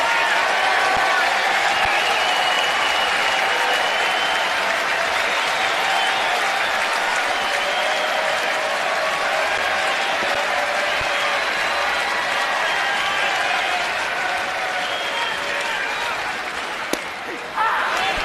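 Sustained applause and cheering from a large MLB baseball crowd fills the stands, a broad steady roar that stays loud before easing slightly near the end, with a sharp knock or slam just before it fades.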